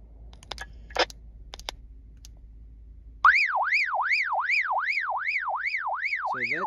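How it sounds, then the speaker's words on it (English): A Baofeng UV-5R handheld radio's local alarm starts abruptly after a few faint clicks and handling noises, then blares a loud, steady rising-and-falling electronic warble that repeats about twice a second, up close and with no talking. "Setting just turns on the alarm locally for the radio."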